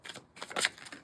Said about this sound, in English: Let's get a few more cards there.